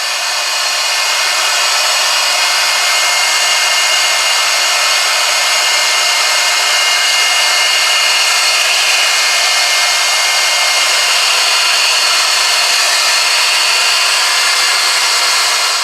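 A heat gun strips polyester and automotive paint off a guitar body, giving a steady, loud, close airy whoosh and blower hum that holds unchanged from start to finish with no voices.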